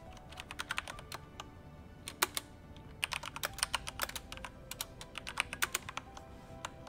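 Keys clatter on a computer keyboard in quick irregular bursts, clicks clustering into fast runs with short pauses, close and crisp with no talking.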